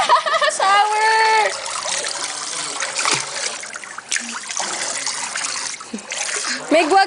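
Water splashing hard and continuously during a shower, loud, close and broadband, with a raised voice briefly calling out over the spray near the start.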